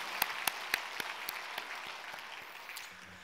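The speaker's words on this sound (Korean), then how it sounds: "하나님께 다시 한번 감사의 박수 올려드립니다" Church congregation claps in rhythm during a Sunday service, fairly soft and slightly distant, with even beats that blur and fade into scattered applause.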